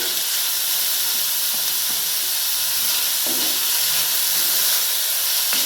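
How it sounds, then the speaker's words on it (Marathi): Finely chopped onions fry in a pan for a leftover-rice phodnicha bhaat, giving a loud, steady hissing sizzle close by, with no voices. "कांद्याला छान असं भाजून घ्यायचे"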